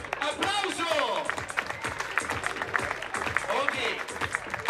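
Outdoor crowd applause and clapping at a trial bike stunt show by the sea, with ramp jumps, a steady wash of hands under a loud announcer's voice throughout.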